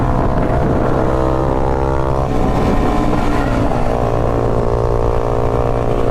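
A motorcycle engine running close by, a loud, steady droning hum with a slight shift in pitch partway through, continuous and without talk.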